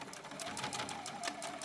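A sewing machine top stitches around the back of a purse with a narrow eighth-inch seam, a fast, even needle rhythm of repeated clicks running steadily and close throughout the short stretch.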